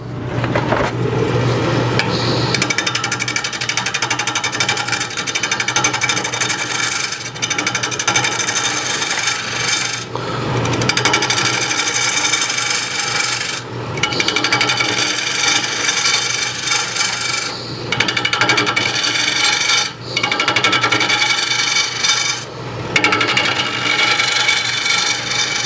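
A gouge on a wood lathe cuts the side grain of a green wood bowl, giving a continuous rough scraping and rasping hiss with small shifts in intensity, close up with no talk.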